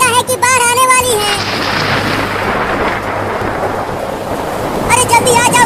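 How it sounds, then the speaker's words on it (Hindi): Thunder rumbles through a heavy downpour during a village storm with lightning, rain hissing steadily throughout while a voice speaks briefly in Hindi at the start and again near the end. "मम्मी बादल गरज रहा है और बिजली भी गिर रही है।"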